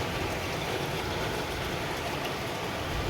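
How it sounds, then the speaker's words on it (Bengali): Steady, dense rain with a continuous windy roar, loud and close, with no pauses throughout. "ঝড় হচ্ছে, হাওয়া হচ্ছে, বৃষ্টিটা হয়তো অত জোরে হচ্ছে না"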